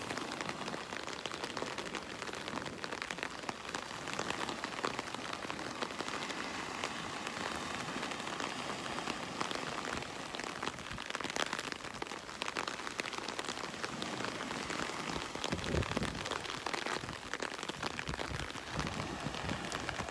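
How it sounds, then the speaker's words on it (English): Steady rain falls on a beach in North Naples, Florida on a morning walk, a dense continuous patter and hiss that stays loud and even throughout with no talk. "It's going to be an all-day affair today. Raining all day today."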